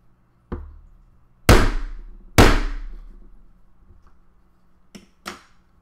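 A meat tenderizer hammers a metal spoon-fork stirring device part during a hot switch fix, giving one light tap, then two loud ringing metallic strikes that decay, followed by two quicker lighter blows, close and with no talk.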